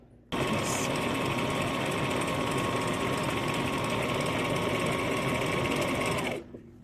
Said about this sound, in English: So I'm gonna pin it real quick and then sew it together.